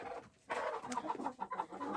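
Chickens cluck softly in a rapid, repeated series, close and quiet, with no talking.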